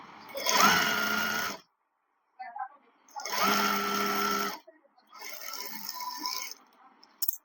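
A sewing machine stitches the side seam of a loose-fit pant in three loud bursts of steady motor whirr, separated by short pauses with faint handling noises.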